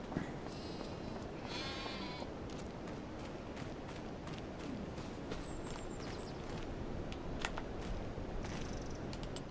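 Sheep bleat in Farming Simulator 25 over a steady farm ambience, with several short calls scattered at moderate distance and no talk.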